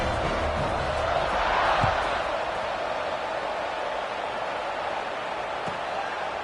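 A large stadium crowd at an Arizona State versus Arizona college football game, a broad distant roar that swells briefly early on and then settles into a steady murmur after a kickoff.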